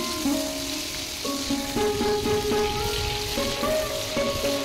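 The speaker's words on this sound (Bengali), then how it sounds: "টমেটো কুচিগুলো তেলের মধ্যে একটু ভেজে নিচ্ছি।" Chopped tomatoes fry in hot oil with a steady, close sizzle and crackle that runs unbroken, with faint stirring scrapes and a soft background hum.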